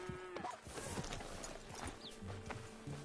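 Horse hooves in Red Dead Redemption, a brisk clip-clop of steps at moderate volume mixed with ambient game sounds and a brief snort, with no talking.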